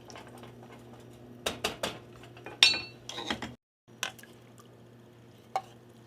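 Vegetables being stirred into a pot of broccoli cheddar soup, heard as a handful of soft clinks and scrapes of a utensil against the pot, close but fairly quiet, with brief pauses between strokes.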